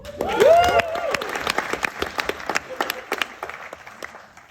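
A short burst of applause from a wedding audience after a best man's introduction, claps and scattered cheers fading out over a few seconds.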